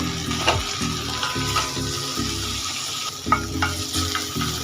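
A spatula scrapes and clatters repeatedly against a pan as pointed gourd leaves sizzle underneath, the stirring coming in uneven strokes with brief pauses.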